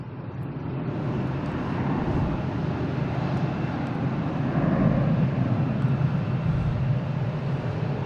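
Virgin Atlantic airliner at Boston Logan International Airport, a steady broad jet roar that holds loud and even throughout, swelling slightly near the middle as the plane moves past at moderate distance.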